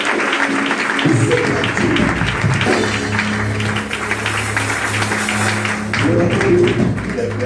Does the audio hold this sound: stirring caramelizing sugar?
no